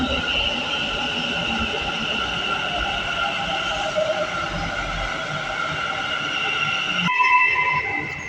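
A Bengaluru metro train running near Mantri Square Sampige Road station, a steady rumbling drone with tonal whine, heard from inside a lift, ending with a sharp change as a chime-like tone sounds.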